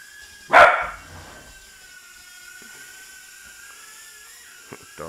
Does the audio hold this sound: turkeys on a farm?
no